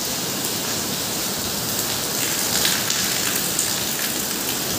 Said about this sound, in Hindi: राहत की सांस लेंगे आज क्योंकि बारिश, सावन शुरू हो गई है